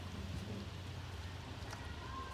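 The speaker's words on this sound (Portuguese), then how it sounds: "Agora a nossa branca está aqui plantando na chuva" Steady rain in a video game, a soft continuous hiss of falling drops with a low rumbling undertone, quiet and even throughout.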